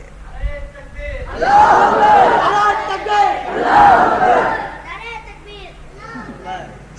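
Crowd at a religious gathering about Tipu Sultan shouting slogans in loud, surging waves, with two strong swells of massed voices, starting from quieter chatter and fading back to scattered shouts.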